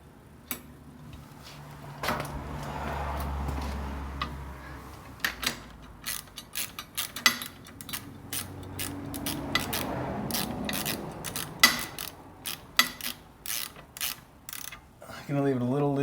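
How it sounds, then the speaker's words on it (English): Bolt being turned and tightened by hand and tool on an SW-Motech crash bar for a 2016 Kawasaki KLR 650, size 17 bolt; a run of close, irregular metallic clicks and ratcheting ticks over a low background hum, with no talking. "It's a size 17 bolt. And actually I can hand tighten for most of the way."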